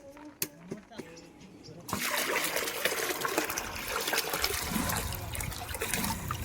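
Wheat grains being washed in water for kurdai get a few faint clinks and splashes at first, then a sudden loud, steady gush and slosh of water that continues to the end.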